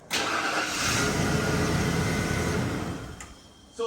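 A Ford F150 truck that had trouble starting, its engine cranking and catching near the mic, running loud and steady for about three seconds before easing off, then a brief burst of noise at the end.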